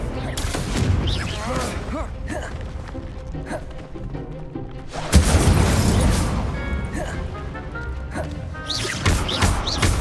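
Confringo and Incendio spells blasting in the Hogwarts Legacy video game, with loud bursting crashes and booms in a dense fight, a big impact near the middle and a voice calling out the spell names.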